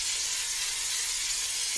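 Shaving foam sprays from a pressurised can for a children's cupcake art activity, a steady broadband hiss running the whole time at moderate, close level with no talk over it.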